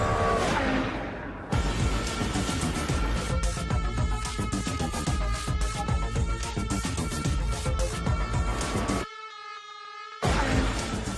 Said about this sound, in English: Perfect time to start experimenting with the 5-litre V10 engine.